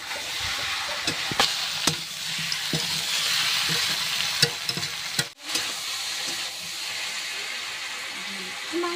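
Desi chicken meat sizzling in hot oil and spices in a village kitchen, a steady loud frying hiss with scattered scraping and clinking from stirring.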